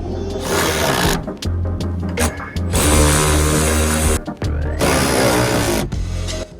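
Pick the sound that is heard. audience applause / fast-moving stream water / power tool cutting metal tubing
power tool cutting metal tubing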